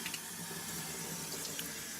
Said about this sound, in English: just wanted to give you a taste of turning the water on